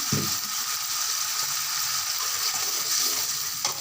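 Hot oil hissing and sizzling steadily in a pan while pickle is being made, a dense, continuous close-up hiss with no voices.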